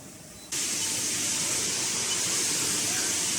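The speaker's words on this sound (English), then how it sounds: "And here you need the air pump" An air pump starts up abruptly while filling a VCD damper, a loud continuous hiss of rushing air that stays steady and close after a quiet moment.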